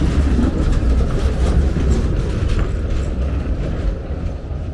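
A tram passing along a street in Bucharest, Romania, gives a loud, steady rumbling roll with rattling mechanical clatter and faint squeal, close by and continuous, easing slightly toward the end.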